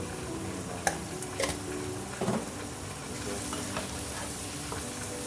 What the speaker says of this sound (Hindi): 4 से 5 मिनट ऐसे इसको फ्राई करें पकाएँ